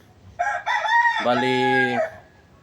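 A fighting rooster crows once, a loud, close cock-a-doodle-doo with a rising start and a long held final note, standing alone against quiet background.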